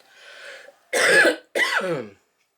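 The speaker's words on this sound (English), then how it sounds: "This cough has been driving me crazy all day." A breathy lead-in followed by two rough, throaty coughs up close, ending in silence.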